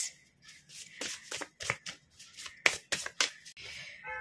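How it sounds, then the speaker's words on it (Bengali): Quick bursts of a tarot deck being shuffled, a series of sharp papery riffles and taps in an irregular rhythm, close and fairly clean with no speech. "কার্ডগুলো সাফেল করে বের করে নিই"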